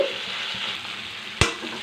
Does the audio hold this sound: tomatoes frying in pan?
yes